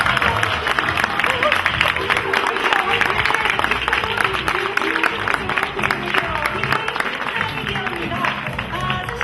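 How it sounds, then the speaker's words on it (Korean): Continuous applause from a crowd at a competition final's awards ceremony fills the clip, with speech and background voices mixed in under the clapping. "우승팀보다 더 큰 박수로 축하해 주시기 바랍니다"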